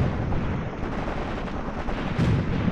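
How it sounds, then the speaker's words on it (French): Dense, rumbling battlefield fire with booming artillery and crackling gunshots in the WWII tactical game Graviteam Tactics: Mius Front, a steady loud barrage with no clear pauses. "ici je vais vous ordonner un tir d'artillerie"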